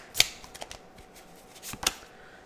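A deck of tarot cards riffled in two quick bursts, with soft card flicks and taps in between, close and fairly quiet with no talking.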